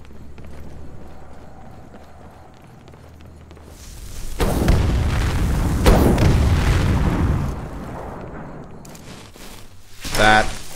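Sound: explosion in the video game Skyrim

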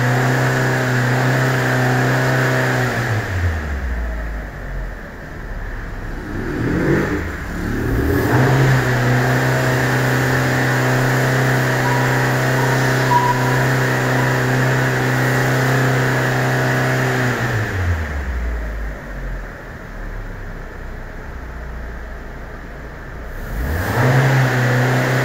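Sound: Fiat Fiorino 1.4 engine revving during diagnostic acceleration

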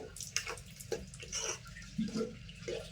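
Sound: water from boiled moong beans poured into cooking pot

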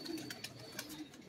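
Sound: pigeon cooing

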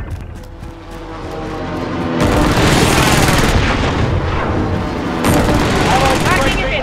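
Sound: airstrike explosions in a video game

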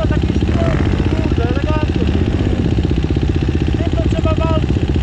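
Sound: motorcycle engine idling

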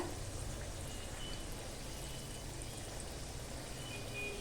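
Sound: cucumber sweet vade frying in oil

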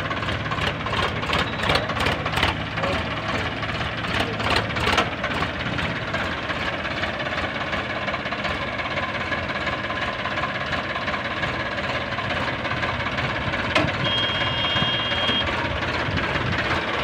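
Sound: Swaraj 744 XT tractor engine running

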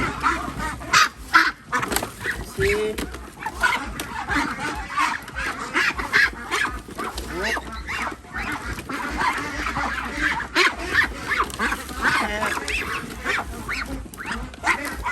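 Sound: Muscovy ducks being caught at a farm

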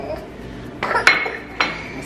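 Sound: stirring banana bread batter in a bowl

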